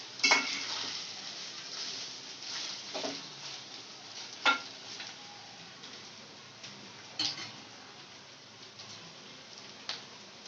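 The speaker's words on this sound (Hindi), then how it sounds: "इसे हम अच्छी तरीके से 5 मिनट तक इसी तेल और प्याज में भून लेंगे।" Mutton keema frying in oil and onion, a soft sizzle beneath intermittent sharp scrapes and taps of a spoon stirring against the pan.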